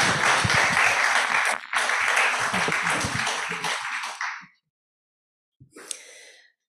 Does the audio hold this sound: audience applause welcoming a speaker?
yes